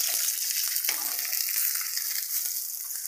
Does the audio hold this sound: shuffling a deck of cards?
no